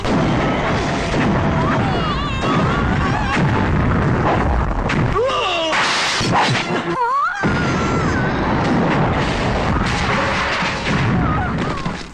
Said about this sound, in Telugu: బాంబు పేలిపోతుంది